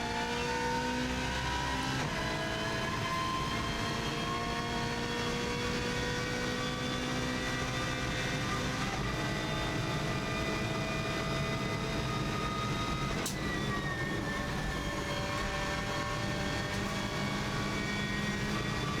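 A race car's engine roars continuously on an Isle of Man TT lap, accelerating hard through repeated rising gear pulls, loud and close as from the cockpit, with no voices over it.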